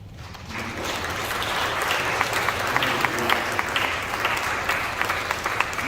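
A church congregation claps in sustained applause at a worship service, steady and dense, filling the space for several seconds with crowd murmur underneath.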